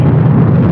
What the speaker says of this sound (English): Liftoff of the Soyuz MS-20 with two Japanese spaceflight participants and a Russian cosmonaut, now beginning their journey to the International Space Station.